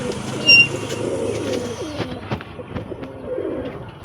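Punjabi pigeons of the Rajenwala breed coo in low, repeated rolling murmurs close by, with a brief louder flutter near the start and steady background noise throughout.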